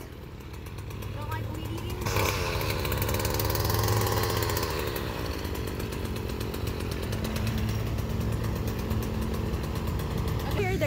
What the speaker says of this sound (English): Don't mind the moped in the back.